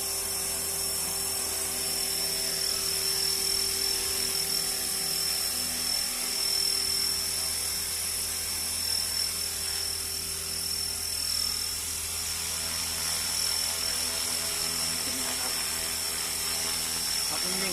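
Steady high-pitched whine of a small RC helicopter's rotor and motor, an X360 model, running continuously at a smooth constant pitch with no talking.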